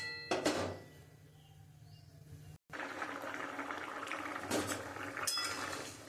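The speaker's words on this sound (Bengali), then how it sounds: "এবার আমি চাপা ঢাকা দিয়ে দেবো।" A lid is set onto a cooking pot while fish curry with pointed gourd simmers, giving a sharp metallic clink near the start and more clatter later, close and fairly quiet.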